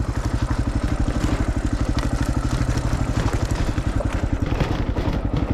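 A dirt bike motorcycle rolls down a steep forest slope on a village hillside, its engine putting out a close, rapid, even chugging pulse with some clatter, held steady throughout and no talk.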